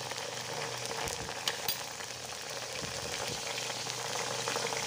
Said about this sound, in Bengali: তারপর আমি কারি লিপস ভালো করে ধুয়ে কারি পাতাগুলো দিয়ে দিলাম তেলের মধ্যে, এবার ঠিক এইভাবে এগুলোকে ভাজা ভাজা করতে হবে।